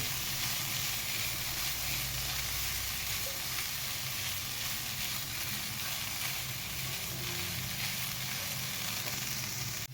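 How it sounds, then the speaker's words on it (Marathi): Grated coconut filling for fried modak sautés in a pan over a low flame, giving a steady, soft, unbroken sizzle that runs on its own at close range. "बारीक गॅसवर आपण चांगलं याला परतून घ्यायचं"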